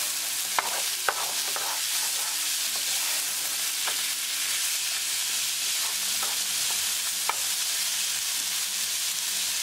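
Frozen corn being stirred with spices and tadka in a hot pan, a steady loud sizzle and frying hiss with occasional scraping clicks of the spoon against the pan, no voices.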